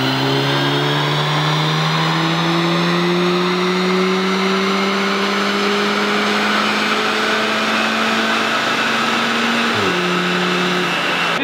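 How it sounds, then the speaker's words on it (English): A stage 1 tuned Audi S3 engine drones steadily with intake noise, pitch climbing slowly as it accelerates, then a sharp DSG gear shift drops the revs near the end before it pulls again. "It has definitely a better sounding intake noise"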